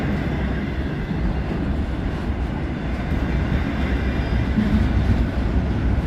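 A freight train rolls past close by, a steady loud rumble and clatter of railcars that holds evenly from start to finish, with no voices.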